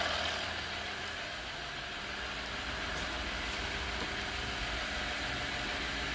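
A 3.0 EcoDiesel engine idles steadily after its first start, a constant close diesel hum with no talking.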